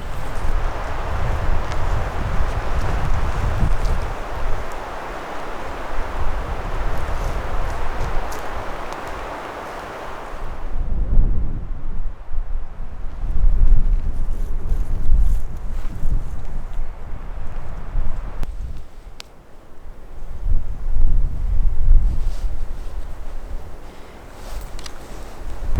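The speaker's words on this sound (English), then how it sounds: "It's pretty windy because we're right in the open" Strong wind buffets the microphone in open backcountry mule deer hunting terrain in Washington, a steady loud roar that drops for a moment and then returns in gusting surges.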